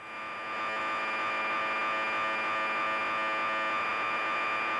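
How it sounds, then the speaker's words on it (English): Basicode computer program data broadcast over Radio 4, a steady, harsh electronic warble and hiss of modem-like data tones, fairly faint and continuous with no voices. "that's the sound of a Basicode program being transmitted by Radio 4's Chip Shop"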